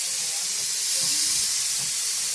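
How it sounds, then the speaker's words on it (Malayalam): A pressure cooker vents steam in a home kitchen, a steady, loud, breathy hiss that fills the whole moment with no pauses and only faint low background sounds beneath. "കുക്കറിന്റെ വിസിലായി."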